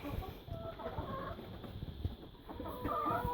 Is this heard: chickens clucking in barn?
yes